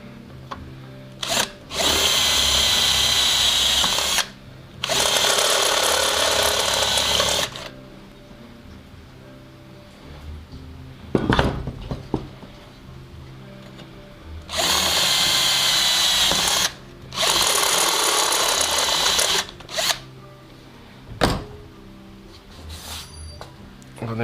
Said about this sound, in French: on va déjà agrandir les trous qu'il y a ici